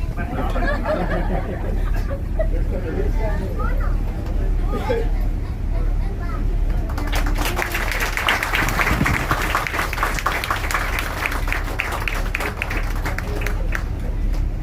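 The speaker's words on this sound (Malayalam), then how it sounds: "അദ്ദേഹത്തിന് വരുമ്പം വിളിക്കും ഒരു നല്ല കൈയടി ഉണ്ട്" Applause for the captain aboard the Kerala government cruiser boat Vega in Alappuzha: crowd chatter gives way to a sustained burst of many hands clapping, loud and close, continuing to the end.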